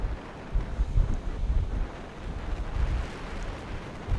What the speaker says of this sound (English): It's a little windy, but the sun is out.